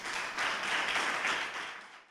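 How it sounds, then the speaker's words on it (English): A church audience applauds the pastor of Cowdensville Church, a dense wash of many hands clapping that swells and holds steady before fading out near the end, with no voices over it. "could everybody give her a round of applause"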